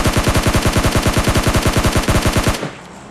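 Rapid automatic gunfire during a solo-versus-squad fight in the video game PUBG Lite, a loud unbroken burst of about twenty-five evenly spaced shots that stops abruptly, leaving a faint low hum.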